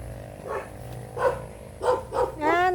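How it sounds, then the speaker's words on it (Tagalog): An angry dog tied up outdoors barks in four or five separate bursts, the last drawn out into a whining yelp, at moderate distance over a steady background hum. "May aso po, galit sa nakatali naman po."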